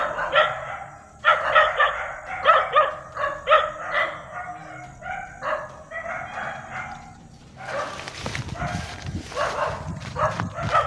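A dog barks repeatedly in a quick series of sharp, close barks, followed by a rougher, noisier stretch of sound.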